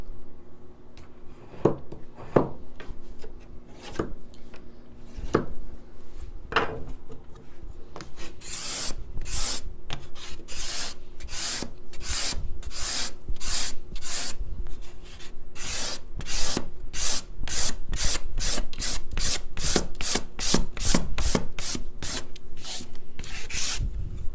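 A steel card scraper for guitar making is stroked again and again against a sharpening tool, close and alone: rasping scrapes that start out sparse, then turn into a steady, fast rhythm of bright strokes.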